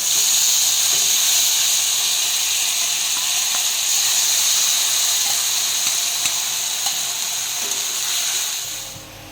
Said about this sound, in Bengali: এখন সেই লঙ্কা আর জিরে বাটাটা দিয়ে দেবো